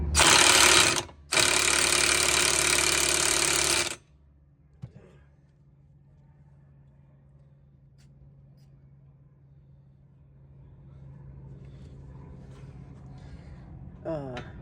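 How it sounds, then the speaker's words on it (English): Power drill driving out a bolt on the brakes of a 2000 Mitsubishi Eclipse GS Spyder, two loud whirring bursts close up, then a low steady hum with light clatter. "Alright, so I got the drill here. Should come right out."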